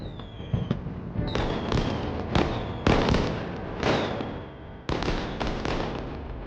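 A fireworks display over a remote town, with repeated loud cracking bursts spaced irregularly and crackling trails fading between them, fairly close and continuous.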